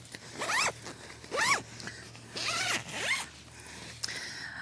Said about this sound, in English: It also has a nice snag-resistant zipper.